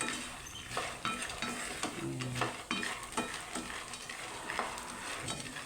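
Peanuts roasting dry in a pan are stirred with a spatula or spoon, giving close, irregular scraping and rattling strokes over a soft sizzle. A short metallic clink comes partway through.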